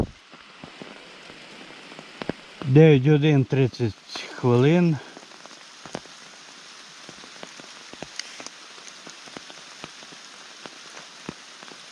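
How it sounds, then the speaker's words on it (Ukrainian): Heavy rain pouring outdoors in cold weather, a steady hiss of drops striking surfaces with sharp individual splats throughout, while someone speaks briefly near the start. "А дощ лє як з ведра."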